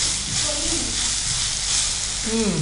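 Fenugreek leaves fry with green chili paste in a hot pan, giving a steady, loud sizzle and hiss throughout with brief stirring scrapes; faint talk sits beneath.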